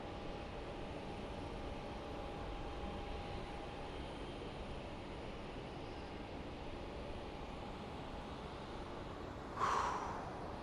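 A Condor airliner comes in at Phoenix Sky Harbor airport at night, heard as a faint, steady, distant roar. A short breathy burst cuts in near the end.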